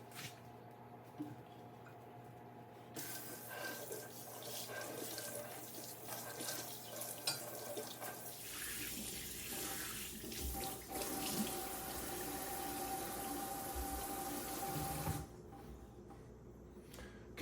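A tap runs steadily into a sink as a cast iron pan is washed with soap, a soft continuous splash and gush with squishy scrubbing and shifting water flow, fairly quiet and close.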